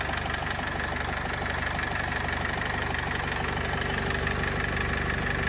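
A 2013 Renault Trafic's 2.0 Euro 5 diesel engine idles steadily at close range, a smooth, even rumble with a faint rhythmic knock and no other sounds.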